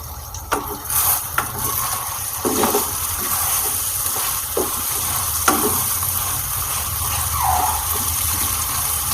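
Chicken with ghee cooks in a pan during a lemon pepper chicken recipe, giving a steady sizzle and bubbling hiss that runs throughout. Occasional soft clinks and stirring knocks rise above it, and no one speaks.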